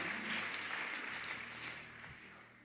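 A church congregation applauds, a broad wash of many hands clapping that fades gradually as it continues.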